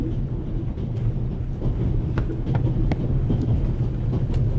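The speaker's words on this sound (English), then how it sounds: "The noise on this train is driving me crazy." Steady low rumble of a moving passenger train on the Orient Express, loud and continuous with faint rattles and clicks over it, no talk.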